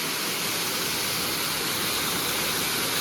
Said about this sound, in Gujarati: અહીંથી આ ઉપરથી પાણી આવે